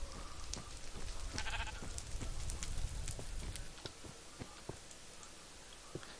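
Sheep bleating in the video game Minecraft, a few short bleats over a busy, steady game background with clicking ticks, moderately loud throughout.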